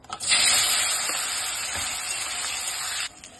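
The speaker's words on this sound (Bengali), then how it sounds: "টোফুগুলো এখন ভেজে নিব।" Seasoned tofu pieces dropped into hot oil in a wok for chilli tofu, a bright hissing sizzle that jumps up at once, holds steady for about three seconds, then cuts off.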